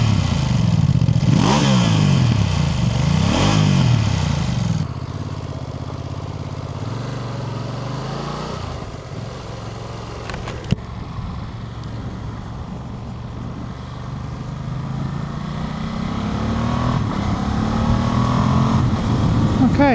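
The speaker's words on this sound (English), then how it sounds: "let's get a sound of that exhaust" A 2025 Ducati Multistrada V2S idles and revs through its exhaust up close, a steady throbbing rumble with engine swells early on, a sharp click midway, and a rising note toward the end.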